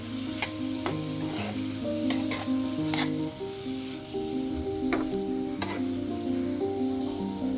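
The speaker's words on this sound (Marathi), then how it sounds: "चवीपुरतं मीठ घातलंय. मीठ मिक्स करून घ्यायचे." Salt being stirred into green tomato chutney cooking with onion in a pan: steady sizzling and frying underneath repeated sharp spoon scrapes and taps, close and fairly loud throughout.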